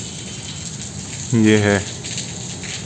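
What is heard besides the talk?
heavy rain outside a college window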